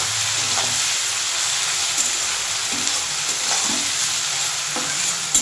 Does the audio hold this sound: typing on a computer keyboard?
no